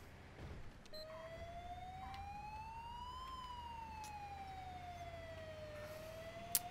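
A wailing ambulance siren from a rescue mod in a driving video game, a single slow rising and falling tone sweeping steadily over a low engine hum, fairly faint.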